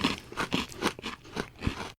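Someone bites and chews a crispy Coca-Cola flavoured snack, giving about seven close, rhythmic crunches spaced evenly over two seconds with no talking.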